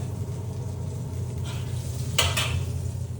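Garlic, anchovies and lemon peel sizzle gently in oil in a pan, a soft continuous fry with a brief metallic scrape of a utensil against cookware near the middle, close and with no talking.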